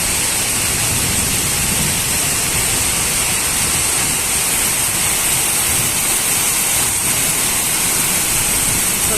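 Heavy rain pours down in a continuous, dense hiss, steady and loud throughout without any break or voices.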